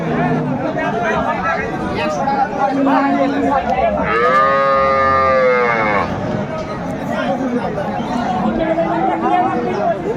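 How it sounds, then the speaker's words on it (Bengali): One long, loud moo from a dairy cow rises over the crowd chatter at the busy Aftabganj cattle market in Dinajpur, where dairy cows and calves are traded, with people talking throughout. "গাভী বাছুর আমরা দেখছিলাম এখানে।"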